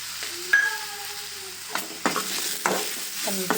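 Cumin and spices fry in a pan on high flame with a soft background sizzle, broken by several sharp spoon-against-pan stirring clinks and scrapes spaced through the moment.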